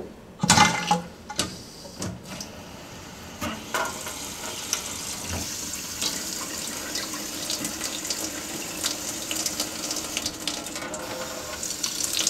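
Water gushing from a newly installed kitchen faucet to flush the pipe, a steady running stream into a sink with clunks and splashes at the start, close and continuous.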